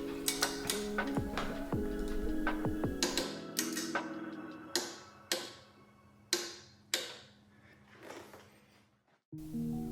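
A torque wrench tightens bolts to about 15 foot-pounds while fitting a street rack on a LiveWire S2 Del Mar electric motorcycle, giving a series of sharp, separate mechanical clicks, close and distinct, with no talk.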